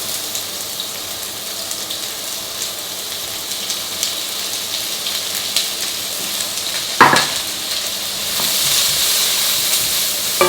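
Onion fries in garlic oil with a constant close sizzle and hiss. A brief clatter comes midway, and the frying swells a little louder toward the end.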